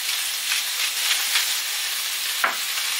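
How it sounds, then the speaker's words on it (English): Courgette and sweet pepper stir frying in a pan give off a steady, close sizzle and hiss, with a brief scraping stir near the end. "this is stir frying, and I'll just keep stirring and frying it until I get the desired colour on the vegetables"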